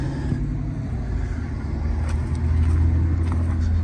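A truck hauling a loaded 40-foot trailer gives a continuous low engine rumble that swells a little toward the end, heard close with no talk over it.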